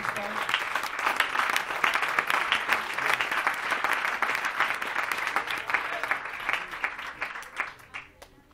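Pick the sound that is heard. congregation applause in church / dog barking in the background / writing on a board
congregation applause in church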